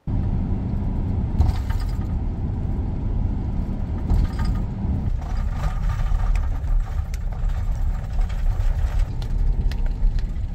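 A van engine running on the road in Utah, a steady loud low rumble of driving with shifting road noise, no voices.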